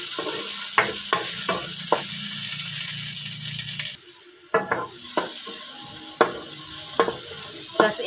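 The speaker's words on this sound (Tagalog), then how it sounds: "Sangkot siya muna natin yung bawang. Tapos pagsabayin na natin yung sibuyas at saka yung kamatis." Garlic, onion and tomato sautéing in a pan, a bright sizzle with sharp spatula taps and scrapes at irregular intervals, the frying dropping quieter midway before the stirring clicks carry on.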